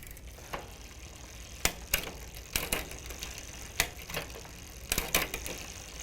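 A bicycle derailleur shifts into low gear, giving a series of sharp mechanical clicks and ratcheting ticks at irregular intervals over a soft whirring freewheel, close and clear.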